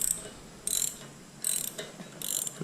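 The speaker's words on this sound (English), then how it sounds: "These center pawl ratchets are supposed to be pretty resilient" A center pawl ratchet clicks in four quick bursts while working clutch bolts on a Kubota L3400 tractor, each brief metallic ratcheting spell close and fairly quiet, separated by short pauses.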